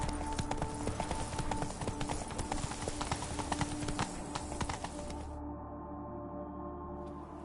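Roach, a horse in The Witcher 3: Blood and Wine, trots with steady rapid clip-clop hoofbeats, close and prominent over game ambience, easing off near the end as the hooves slow.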